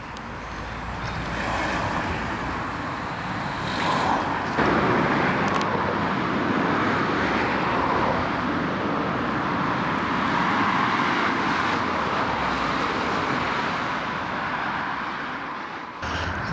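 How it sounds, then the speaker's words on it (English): Steady traffic on a main road beside a rural railway station, a continuous broad wash of passing vehicles with swelling car pass-bys and some wind buffeting, with no talk. "it's spoilt somewhat by the amount of traffic on this main road"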